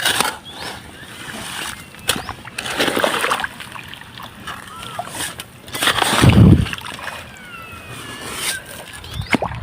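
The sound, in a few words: irrigation water being diverted and flowing into a field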